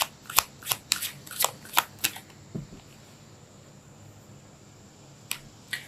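Tarot cards are shuffled close up in a series of sharp riffling snaps, about eight quick bursts in the first two seconds, then a quiet pause and a couple more snaps near the end.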